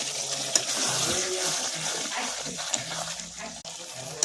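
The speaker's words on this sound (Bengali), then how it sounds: "গরম জল একটু দিয়ে দেবো।" Hot water is poured into a pot of cooking meat in a home kitchen, producing a close, steady splashing and gurgling rush with a few sharp clinks of utensils against the pot.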